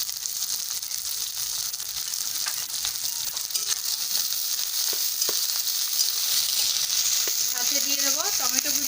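Chopped onion, green chili, garlic and ginger frying in a pan, a loud, dense sizzle that swells slightly toward the end with faint stirring rattles and a brief voice-like warble.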